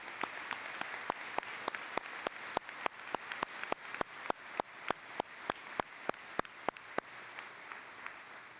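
At the opening ceremony of an academic Nobel Conference at Gustavus, an audience applauds, with one nearby clapper striking sharp, evenly spaced claps over a softer bed of crowd clapping that tapers near the end.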